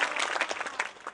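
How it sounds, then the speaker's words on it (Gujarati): An audience at a Swaminarayan religious gathering, Botad Shakotsav 2015, bursts into brief, dense applause, many hands clapping together at close range. "પૂજ્ય બહેનના આશીર્વાદને આપણે અહીંયા જોરદાર તાળીઓના નાદથી એક વખત આપણે વધાવી લઈશું."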